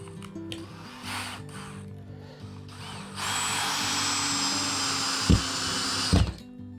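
A power drill drives screws through a ceiling fan hanger bracket into ceiling studs, a steady loud whir running for several seconds after softer earlier bursts, with two sharp knocks near the end.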